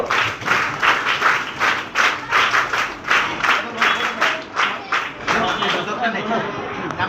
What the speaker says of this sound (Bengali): তিন তালি শুরু করো